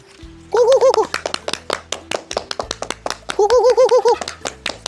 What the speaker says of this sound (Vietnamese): Đấy thì vỗ tay là gà về thôi.